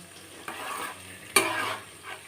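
A tempering of green chillies, mustard seeds and cumin sizzles in a pan for a tomato and drumstick curry, with soft continuous frying broken by a few sharp stirring scrapes, close and fairly quiet.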